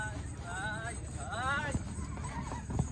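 Horses neigh at a horse sale, two wavering whinnies in succession, moderately close, over a busy outdoor background with hoof thuds and faint voices.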